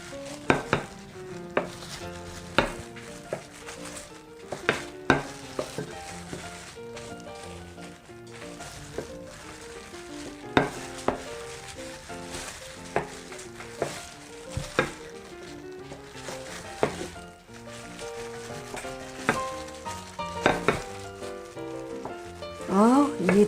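Toast bread sizzling as it cooks in a pan for a strawberry jam pie, with steady frying crackle, occasional clinks and knocks, and background music throughout.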